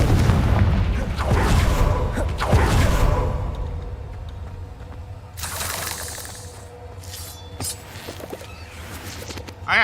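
A booming spell explosion from a wizard video game, a loud low blast with crackling, shattering debris that decays over several seconds, followed by smaller bursts and rustling game effects.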